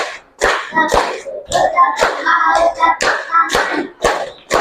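A classroom of students claps and pats along in a rhythmic clapping game, sharp groups of hand hits at an even pace with a chanted, sing-song group voice between them.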